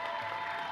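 A brief burst of audience applause at the Borderlands 3 gameplay reveal event, a steady wash of clapping from a crowd in a large hall, with no talking.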